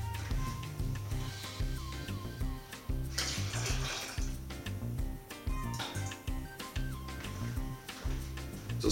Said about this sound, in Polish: Także wodę zlewamy.